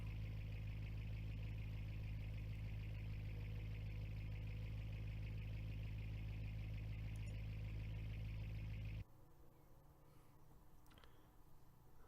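A CJD engine fitted in a rebuilt General Hawk car in BeamNG.drive idles with a steady, loud low rumble, then cuts out abruptly after about nine seconds, leaving a faint hum.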